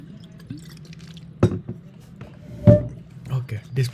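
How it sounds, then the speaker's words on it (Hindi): Someone drinks water from a glass nearby, with a few sharp clinks and soft gulping sounds separated by quiet pauses. "पानी पी लूँ मैं ज़रा।"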